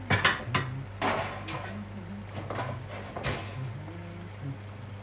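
A small plate is lifted and set back down in a kitchen while an involtini and pasta dish is plated, giving a few light ceramic clinks and taps among soft handling noise, with a steady low hum underneath.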